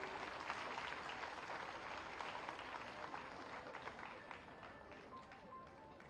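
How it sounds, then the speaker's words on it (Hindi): Audience applause at a government event launching a hot cooked meal scheme for anganwadi centres; a steady, distant-sounding wash of clapping that slowly fades, with no speech over it. "जोरदार तालियां अपेक्षित हैं।"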